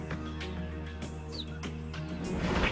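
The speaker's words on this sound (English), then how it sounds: "When she gets separated from her cubs, she's going to start to chirp like a bird." A cheetah mother separated from her cubs gives a brief, high, bird-like chirp, faint and short over a steady low droning background.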